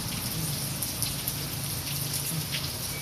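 Heavy rain falls steadily as a dense, even hiss with scattered drops landing on surfaces nearby, continuous throughout, no voices.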